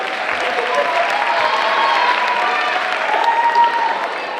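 An audience claps steadily with a dense, sustained wash of applause and a few faint cheers, loud and close throughout.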